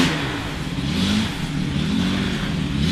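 A 1953 Jaguar C-Type classic racing car idles and revs at Goodwood, its engine holding a steady, rich mid-pitched drone with slight rises in pitch, heard close and continuous without talk.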